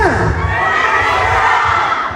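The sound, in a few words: group of people shouting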